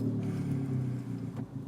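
A modified Audi A1 with a high-flow cat, resonator and U-tip exhaust starts up and settles into a low, burbling idle, rough and pulsing at moderate loudness.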